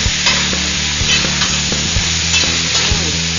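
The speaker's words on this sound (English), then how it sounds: "I'm going to brown this on the bottom of the pan a little bit." Onions and peppers browning in a pan for cioppino, a loud, steady close sizzle with rhythmic scraping and stirring knocks throughout, no voices.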